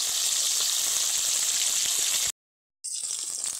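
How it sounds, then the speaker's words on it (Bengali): Sankar (stingray) fish frying in hot oil in a wok, a loud steady hiss of sizzling that cuts out briefly to silence before resuming just as strongly. "যে কয়েকটা মাছ বাকি ছিল একে একে দিয়ে দিয়েছি কড়াইতে। এগুলোকেও একই রকমভাবে লাল লাল করে ভেজে নিই।"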